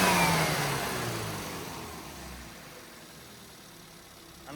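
A car freshly tuned by adjusting its carburettor pulls away and drives off, the engine note loud at first and then fading steadily into the distance, with no talking.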